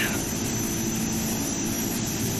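De Havilland DHC-6 Twin Otter engines in the GeoFS flight simulator game give a steady, even drone with a broad hiss. The level holds constant and close throughout, with no pauses.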